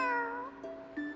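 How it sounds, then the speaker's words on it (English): A cat meows once, a clear drawn-out cry followed by a softer short chirp near the end, with no talking. "What's that sound? Oh, it's a cat!"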